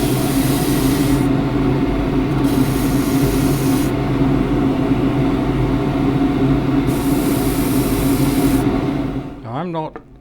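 Sandpaper rubs against a turned wooden plate spinning on a lathe, giving a continuous, close, rasping hiss with a steady motor hum beneath it that winds down and stops near the end.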